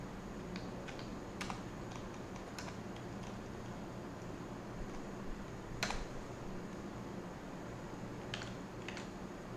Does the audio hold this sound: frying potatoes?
no